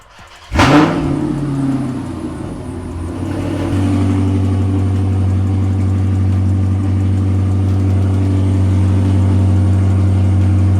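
A high-horsepower car with a newly installed 2000HP fuel system, and no seats fitted, cranks briefly and fires up with a loud burst, then settles into a steady, heavy, rumbling idle that continues alone.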